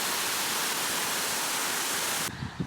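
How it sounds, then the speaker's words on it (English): A splashing water fountain outdoors roars as a loud, steady broadband rush close by, then cuts off abruptly near the end, leaving faint low sounds. "I don't know if you can hear me over the sound of the water, but that fountain is"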